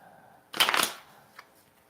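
A single quick riffle of a tarot card deck, close and crisp, lasting about half a second, followed by a faint tap and quiet room tone.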